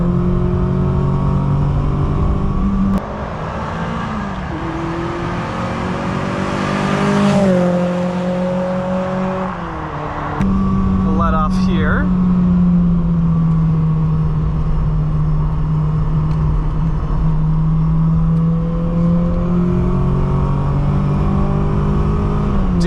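A 1986.5 Volkswagen Scirocco 16V engine held at full throttle, a loud steady drone rising in pitch through the gears, with brief dips at shifts and tire noise under it.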